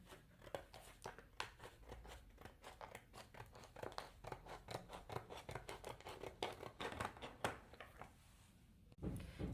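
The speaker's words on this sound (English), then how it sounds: "Now let's cut this strip." Scissors cut a strip of stationery in a long run of quick, rhythmic snips with faint paper rustling. The sound is quiet and close, with no one speaking.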